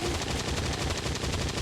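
Rapid automatic gunfire from the strategy video game XCOM 2: War of the Chosen, a dense, continuous burst of loud shots rattling without pause for under two seconds, with no talk over it.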